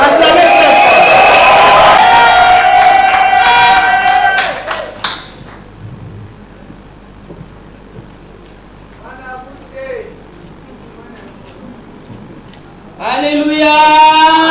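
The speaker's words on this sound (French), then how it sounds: "Acclamez très fort" A loud crowd at a national women's conference in a Congolese hotel cheers and shouts with high whoops for several seconds, falls quiet with scattered voices, then erupts again into loud cheering.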